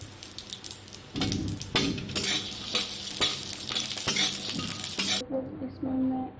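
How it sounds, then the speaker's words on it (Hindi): Peanuts roast in hot oil in a pan, a bright crackling sizzle broken by repeated stirring scrapes and clinks of a spoon against the pan, fading to quieter clatter near the end. "गरम हो जाए तो ये पीनट्स इसमें डालेंगे, इसको भून करके ले लेंगे"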